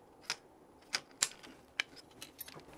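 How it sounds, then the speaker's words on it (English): Purpose-built hobby side cutters clip plastic parts for a 1/100 scale Estes Saturn V model, giving several sharp, close, crisp snaps spaced irregularly in a quiet room. "These are purpose-built side cutters designed for models."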